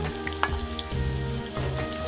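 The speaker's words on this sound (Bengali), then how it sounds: "আমি এটা একটু ভালো করে লাল লাল করে ভাজিয়ে নেবো" Hot oil sizzles steadily as potatoes fry until browned, with a few scraping stirs and a low hum underneath.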